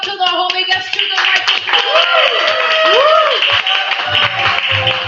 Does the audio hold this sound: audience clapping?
yes